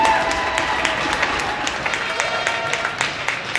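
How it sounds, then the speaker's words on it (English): Arena crowd applauding a hockey player on senior night at an ice rink: a dense, steady wash of clapping with scattered louder claps, a voice briefly audible under it. "Please give a round of applause for Dakota."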